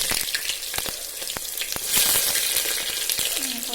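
Onions dropped into hot oil with a bay leaf, a bright steady sizzle with sharp crackles and pops that grows louder as the frying picks up, heard close and with no talking.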